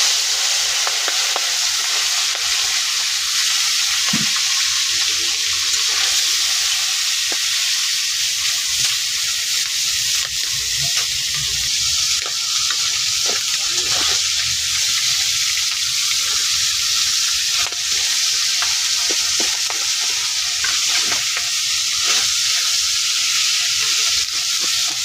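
Fish sizzles in hot oil in a pan, a loud, steady crackling hiss that carries on unbroken for the whole stretch, with occasional faint clinks and no voices.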